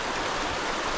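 A fast mountain river in the Alps rushes steadily, a dense, loud, unbroken roar of flowing water close by, with no voices.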